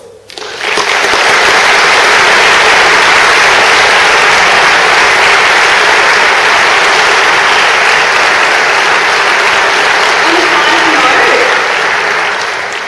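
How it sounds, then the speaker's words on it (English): Graduates at a law faculty graduation ceremony break into sustained, loud applause that swells within the first second and holds steady as a dense wall of clapping, with no talk over it. "I now ask my fellow graduates to express that appreciation by way of applause."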